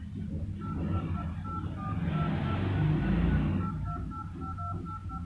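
Keypad tones from a Vivo T1 phone dial pad, a series of short, evenly spaced beeps repeating at a steady pace over a constant low background hum, with no voice.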